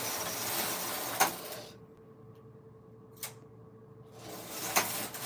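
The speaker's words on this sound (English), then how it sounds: "All you need to do is push and pull the machine head." A Silver Reed knitting machine carriage slides back and forth across its needle bed in a steady mechanical rush, with sharp clacks where it stops and reverses, broken by a quiet pause.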